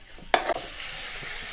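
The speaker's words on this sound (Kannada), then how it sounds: "ಮೊಟ್ಟೆ ಈ ರೀತಿ ಫ್ರೈ ಮಾಡಬೇಕು" Eggs fry in a pan for a Mangalorean-style egg ghee roast: a quick scrape and clatter of stirring, then a steady, close, even sizzle with no talking.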